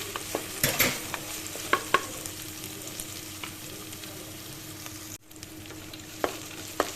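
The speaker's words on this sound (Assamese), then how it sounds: "পেষ্টখিনি দি দিলো তাৰ পিছত দিছো নৰসিংহ দি দিছো এইখিনি অলপ লৰাই দি দিলো" A spoon steadily stirs spice paste frying in a pan for a sour fish curry, with a continuous soft sizzle and scattered scraping clicks, close and fairly quiet, with no talk.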